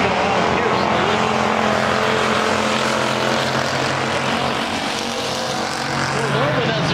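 Hobby stock race cars roar around the Cocopah Speedway dirt oval during an IMCA Winter Nationals heat race, a dense continuous engine drone with commentary running over it.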